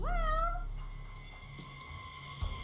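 An alley cat in the video game Judgment lets out one clear, drawn-out meow at the start, then faint rustling and small ambient sounds with no one talking.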